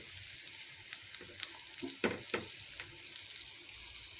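Sliced onion and green chilli fry in oil for a small-fish curry, a faint, low sizzle broken by a few soft stirring scrapes and clicks, close by with no talk.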